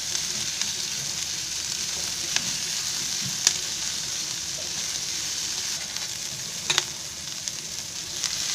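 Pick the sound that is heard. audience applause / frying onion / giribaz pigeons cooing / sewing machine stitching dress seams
frying onion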